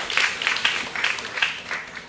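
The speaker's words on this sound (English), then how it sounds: "A round of applause to Dr." Audience applause at a live debate on the impact of pesticides, a steady wash of clapping with a few louder bursts, fairly close and filling the short moment on its own.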